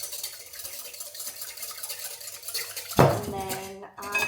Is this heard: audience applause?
no